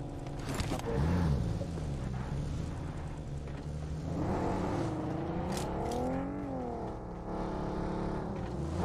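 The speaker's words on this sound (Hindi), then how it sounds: "हमें कार मिल गई।" Car engine in the battle-royale game BGMI (Battlegrounds Mobile India) hums and revs continuously, with the pitch rising and falling as the vehicle accelerates and eases off, loud and close for the whole stretch.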